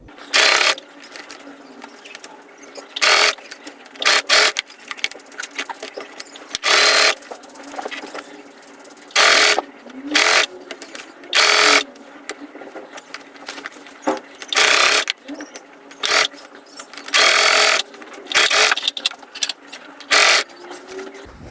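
A sewing machine stitches around a dress sleeve for an umbrella frock in repeated short bursts of rapid mechanical clattering, separated by quiet pauses, close and fairly loud.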